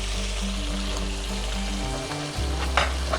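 Rice being stir-fried in a pan with soy sauce and boiled chicken for Chinese masala fried rice, a steady close sizzle with stirring and scraping throughout, briefly dipping before the frying noise swells again.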